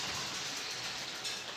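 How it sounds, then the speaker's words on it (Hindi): Heavy rain drumming on a plastic cover stretched over an upper grille, a faint, steady wash of patter without a break. "बारिश इतनी ज़्यादा है ना, ऊपर वाले जंगले पर हमने वो प्लास्टिक कवर भी डाला हुआ है लेकिन बारिश है कि रुकने का नाम ही नहीं ले रही"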